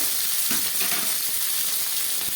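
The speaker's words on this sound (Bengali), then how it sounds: "শিম আলুটা একটু ভেজে নিলাম।" Beans and potatoes frying in a pan, giving a steady hissing sizzle throughout with a few soft stirring scrapes near the start.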